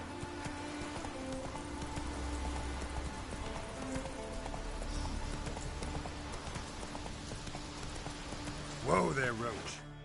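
Roach the horse in the Witcher 3 video game trots and gallops with steady, rhythmic hoof clops on the ground. A low rumble runs beneath the hoofbeats, and a brief whinny or snort rises near the end.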